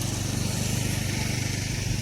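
A motorcycle engine running on a badly damaged road, a steady loud droning rumble with no clear approach or fade, dominating throughout.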